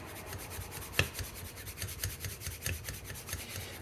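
Faint rhythmic rubbing as the piston slide of an Amal carburettor from a Triumph Bonneville T140V is polished with toothpaste and WD-40, with short repeated strokes close by and no talking.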